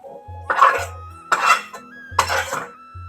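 Fried fenugreek leaves being scooped out of a kadhai, three distinct bursts of metal scraping and clatter from a spatula against the pan, close and separated by short pauses.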